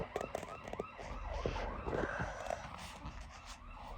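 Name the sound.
fire engine siren switching to yelp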